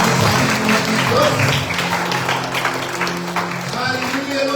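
Congregation clapping loudly during Sunday praise and worship at church, a sustained burst of applause with voices speaking over it.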